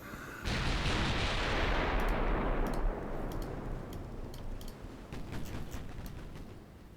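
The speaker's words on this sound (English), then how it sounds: "You're firing at the cruiser." Naval guns fire at an enemy cruiser in a Greek extended campaign video game: a loud opening blast followed by a long rumbling decay, with scattered sharp clicks near the end.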